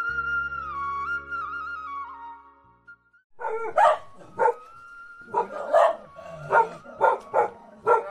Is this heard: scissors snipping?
no